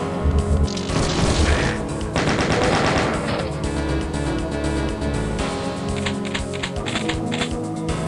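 A Doom map's plasma rifle fires in loud, rapid continuous bursts of crackling shots, with a few pauses and impact crashes between volleys and no voices.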